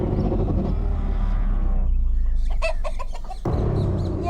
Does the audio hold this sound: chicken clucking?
yes